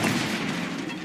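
A brief magical spell effect from the Hogwarts Legacy video game lands as a short, dense whoosh-burst, loud and close.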